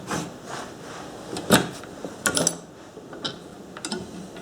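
Machine screw being threaded by hand into a replacement fuel tank on a Stihl 251c, giving a few close, faint metallic clicks and ticks in short bursts with quiet gaps between.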